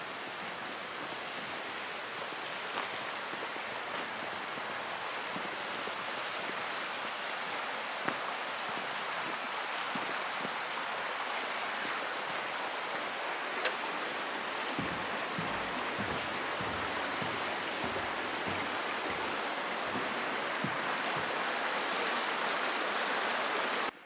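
Steady broadband rush of a river flowing past a hiking trail crossing on the Eagle Rock Loop, continuous and close, with occasional low gurgles and splashes and no voices.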